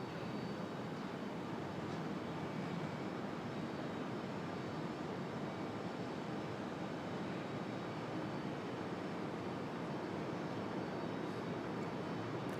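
Frontier airliner making a go-around at Raleigh-Durham International Airport, a continuous broadband jet engine roar heard at a distance, steady in level for the whole stretch with no talk.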